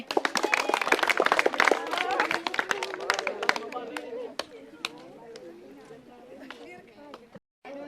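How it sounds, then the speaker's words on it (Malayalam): A crowd of students at a school quiz show breaks into loud, dense clapping that peaks early, then thins into scattered claps under chatter before fading out. "ഒരു ക്ലാപ്പ് ചെയ്തേ"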